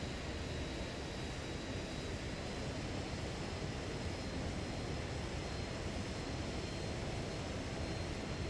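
Steady, unbroken aircraft engine drone from a plane flying in Microsoft Flight Simulator 2020, a constant broadband rumble near an aircraft carrier, held at an even level throughout without talk.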